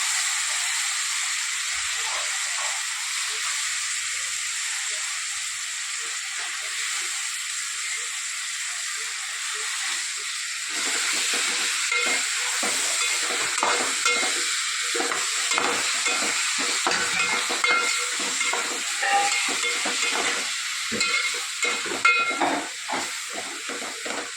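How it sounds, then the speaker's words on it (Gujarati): Spinach being added and stirred into a pot while cooking dal, steady hiss of steam and sizzling, with scraping and clattering from stirring growing busier partway through, no talk. "હવે આપણે પહેલાં પાલક નાખી દઈએ."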